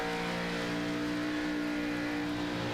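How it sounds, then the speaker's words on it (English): Race car engines accelerating during a circuit race late in the event, a steady loud droning tone held throughout with no voices. "you can hear the engines accelerate right here"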